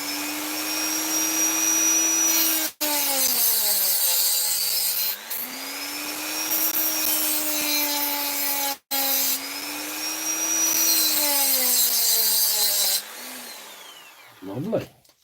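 A Dremel rotary tool fitted with a new cutting blade whines loudly and steadily, with a short break about a third of the way in and the pitch sagging and recovering as it bites into the work. A second break follows, then a few clunks at the end.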